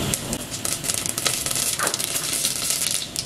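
Mustard seeds, about a spoonful, go into hot oil for a spice tempering, giving a steady dense sizzle and crackle that holds close and fairly loud for a few seconds with no voices.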